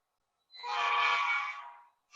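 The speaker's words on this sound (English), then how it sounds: "So you can hear how that air horn has changed." A single SoundTraxx model train air horn blares for over a second, a bright harmonic chord that swells and fades, followed by silence and a brief sound at the end.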